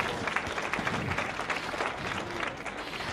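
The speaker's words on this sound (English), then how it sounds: "applause." Audience clapping at a 4-H/FFA swine show, a brief, moderately quiet burst of steady applause from a crowd.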